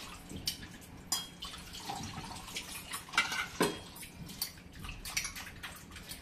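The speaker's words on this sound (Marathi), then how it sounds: "आता आपण पाण्याने स्वच्छ धुवून घेऊया." Water splashes and drips in short, uneven bursts while something is rinsed by hand, with occasional clinks of a pot or dish nearby.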